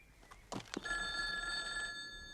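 An old telephone bell rings out loudly with a sustained metallic trill after a few brief clicks, close by and alone.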